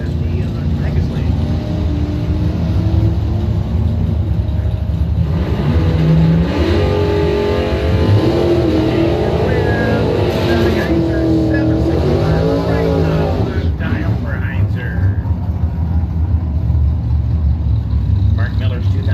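Chevrolet race cars running side by side at a short-track race, engines roaring loud and steady throughout, with an announcer talking over the continuous revving drone.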